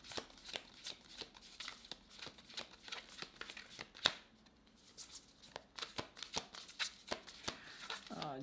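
A spirit animal oracle card deck is shuffled in repeated crisp riffling bursts of card noise, close and fairly quiet, with one sharper slap midway.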